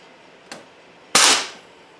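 An air rifle fires an NSA slug: a faint click comes first, then one sharp, loud, close report with a short decaying tail, in an otherwise quiet setting.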